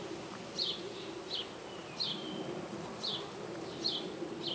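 Honey bees drone in a continuous low hum at an open hive, close and steady, while a few faint chirps repeat in the background.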